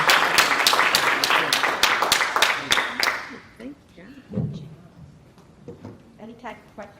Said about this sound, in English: let's give our esteemed panelists a round of applause